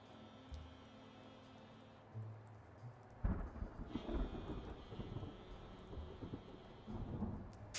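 Thunder rolls in a rainy storm in the video game Blacksad: Under The Skin, a sudden loud crack breaking in partway through and followed by steady rain and rumbling that carry on to the end, with no voices.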